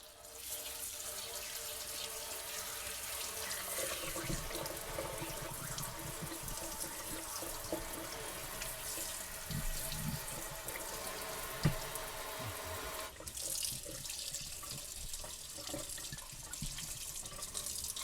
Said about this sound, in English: let's go ahead and turn some cold water on